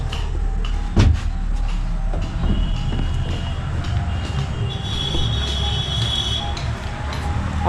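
A toy train running at Srijani Park, an amusement park in Balurghat, with a steady low rolling rumble, a sharp clunk near the start and faint squealing tones, fairly close and without talk.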